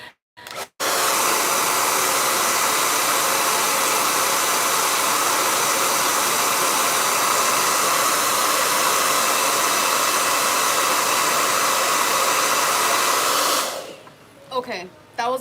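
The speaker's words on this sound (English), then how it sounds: "That's like my nail dryer." A handheld blow dryer used as a nail dryer switches on after a brief click and blasts a loud, constant whooshing roar up close for about thirteen seconds, then winds down into quieter rustling.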